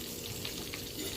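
Pieces of chicken, wings and drumsticks, fry in hot oil with a quiet, continuous crackling sizzle, heard close and alone.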